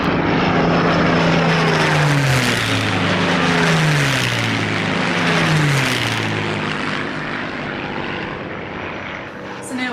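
A Spitfire's propeller engine roars loud and close, its pitch sweeping up and down in repeated waves as it passes, filling the whole stretch with a dense droning growl.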